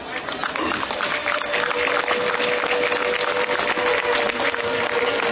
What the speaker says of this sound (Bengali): আপনারা সবাই অনুগ্রহ করে হাততালি দেবেন।